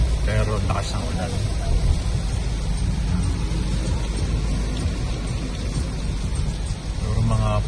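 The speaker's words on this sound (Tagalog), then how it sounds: "Pero lakas ng ulan." Heavy rain drums steadily on a car as it drives toward Manila's airport, a dense continuous wash with low road rumble underneath and some voices talking inside the vehicle.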